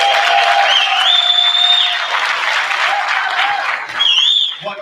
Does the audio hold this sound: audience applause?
yes